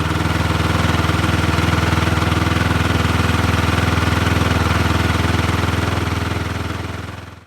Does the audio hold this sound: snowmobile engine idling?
yes